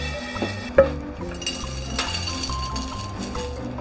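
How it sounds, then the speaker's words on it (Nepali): Roasted chiya masala spices tipped from a pan into a dish, with light metallic clinks and scraping, one sharp clink standing out, moderately close and without speech. "अब मसला भुटेर खनाइसकेँ मैले"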